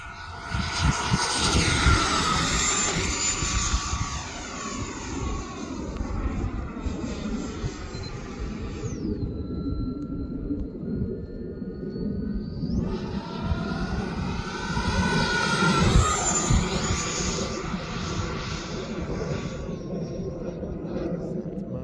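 An Avios MiG-17 model jet converted to an E-flite 80mm electric ducted fan roars overhead in flight, its high whine swelling and fading with pitch shifts as it passes, while a voice talks over the sound.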